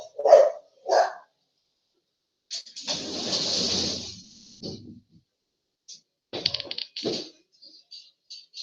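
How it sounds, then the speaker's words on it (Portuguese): Dogs bark in short sharp bursts, a few separate barks at first, then a longer rough stretch and a cluster of yaps; moderately near, no talking. "por causa do barulho da cachorrada"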